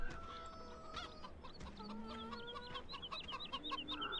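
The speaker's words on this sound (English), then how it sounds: "damn chickens could be laying as you collect them" Hens cluck and chatter close by in a coop during egg collection, a busy overlapping run of short clucks and rising calls throughout.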